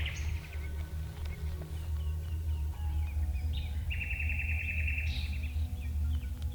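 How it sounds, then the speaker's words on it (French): Birds chirp in the woodwork and roof frame of a castle, scattered short tweets and one sustained trill standing out over a constant low rumble, fairly faint and distant. "il y a des oiseaux forcément aussi dans la boiserie, de la charpente"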